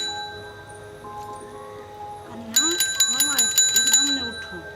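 A bell rings in short, quick repeated bursts, loud and close, breaking into an otherwise quiet room where a voice speaks.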